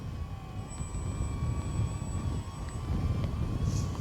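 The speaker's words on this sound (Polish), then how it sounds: "Chciałem, żeby w taką pogodę odbył się lot tego samolotu." A cheap AliExpress RC model airplane flies outdoors in rough weather, giving a thin, steady high-pitched motor whine. Heavy wind rumble on the microphone sits underneath it.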